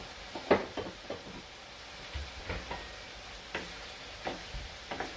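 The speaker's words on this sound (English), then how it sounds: "I just cook it off for a further 2 minutes" Minced meat filling coated with pomegranate molasses cooks in a pan, giving a low, steady sizzle broken by scattered scraping and stirring clicks, close up and moderately quiet with no talking.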